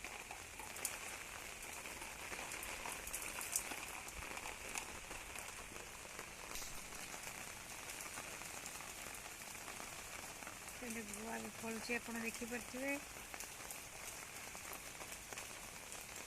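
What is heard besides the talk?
heavy rain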